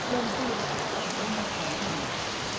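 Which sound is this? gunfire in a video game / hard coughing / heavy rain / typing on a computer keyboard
heavy rain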